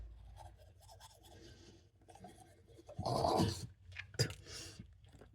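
A toothbrush scrubs teeth in short soft bursts, then gives louder, vigorous brushing strokes in the middle and a couple of brief scrubs near the end, close and with no talking.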